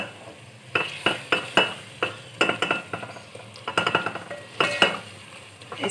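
Crushed fenugreek, fennel, nigella and mustard seeds are stirred into a frying pan for an achari eggplant, pea and potato curry, with a spoon clinking and scraping in irregular bursts over a faint sizzle.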